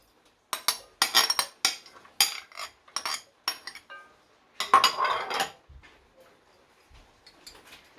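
Tomato, cucumber and pasta salad ingredients are tossed in a dish with a spoon, giving a run of close, clinking scrapes and taps in bursts with short pauses, ending in quiet.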